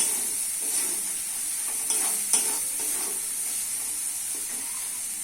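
Spice masala frying in a pan with sugar added, being stirred, a steady close sizzle with occasional scraping strokes of the spoon, no speech.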